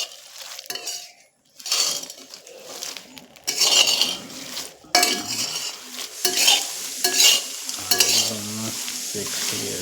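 Desi chickpeas being roasted over a clay stove on a farm: close, repeated scraping and stirring strokes against a metal pan with faint sizzling and occasional clinks, coming in irregular bursts with brief pauses.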